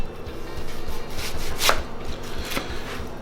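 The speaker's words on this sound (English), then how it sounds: "So I'm going to pre-cut our onion" A knife chops an onion on a cutting board in quick, close, uneven strokes, with a couple of sharper, louder cuts standing out, and no one speaking.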